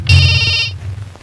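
A telephone rings in a Kannada police drama as a call from the commissioner comes in: one loud, bright electronic ring burst lasting about two-thirds of a second, then a quieter room.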